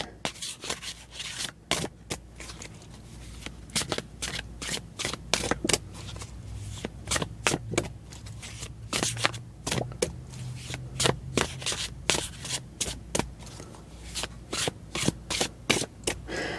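A deck of tarot cards being shuffled close up, with repeated crisp riffles and rapid flicking bursts in an uneven rhythm, no talking.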